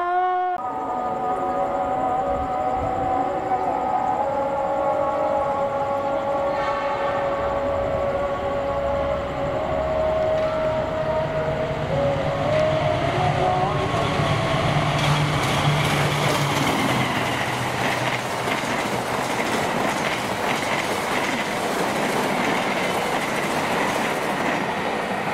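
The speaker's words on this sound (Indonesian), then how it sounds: "Barusan lewat kereta api Argo Parahyangan 45." The Argo Parahyangan passenger train passes up close, with a high whistle-like tone at first and then a loud, steady rumble and rhythmic clickety-clack of wheels on rails that grows rougher as the carriages roll by.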